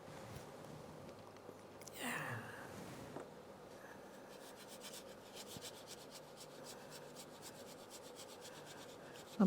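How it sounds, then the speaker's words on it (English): Faint dry scratching of a brush scrubbing paint onto a canvas outdoors on Monhegan Island, a soft rasping stroke that rises briefly louder near the start and then settles into quiet, irregular rubbing with low background hiss. "I'm scrubbing this"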